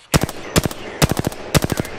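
Automatic gunfire in the video game Apex Legends comes as four loud, evenly spaced bursts of rapid rounds, each a tight cluster of sharp cracks, with no talk.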